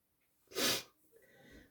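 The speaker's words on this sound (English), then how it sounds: "I'm sorry if I'm sniffing a lot in this video." A person getting over an illness gives one sharp, close nasal sniff or snort, followed by a softer breathy exhale in a quiet room.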